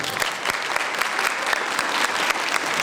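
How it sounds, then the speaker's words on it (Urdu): An indoor audience at an arts council festival applauds steadily, a dense, sustained clapping from a sizeable crowd with no break. "آپ کی بھرپور تالیوں سے ایک دفعہ پھر ان کا شکریہ ادا کیجیے"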